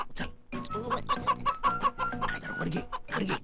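Chickens being caught cluck and squawk continuously in agitated bursts, close and fairly loud, with a faint rustle of movement around them.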